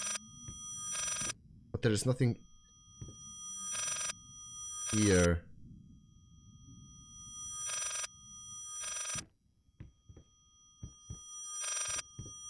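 A telephone bell in the horror game Layers of Fear rings in short, evenly spaced bursts, about six over the span, while someone talks between and over some of them.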